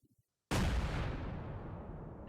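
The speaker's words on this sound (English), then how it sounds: "explosion blew the front door of his apartment clean off" A sudden, loud blast as an explosion blows the front door of an apartment off its frame, following a brief moment of near silence, then a long rumbling roar that slowly fades.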